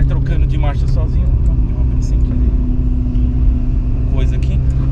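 Ferrari 488 Spider in automatic mode, its engine rumbling steadily at low revs as it shifts gears on its own, with people talking over the engine noise throughout.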